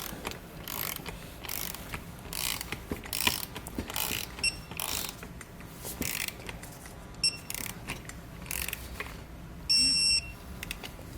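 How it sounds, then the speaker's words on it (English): A 14mm socket on a ratchet torques down two hex bolts on an Air Lift LoadLifter 7500 XL air helper spring fitted to a 2016 Ford, giving scattered close clicks and light metallic rattles at a low level. "Now we can take our 14mm socket and torque down these 2 hex bolts here"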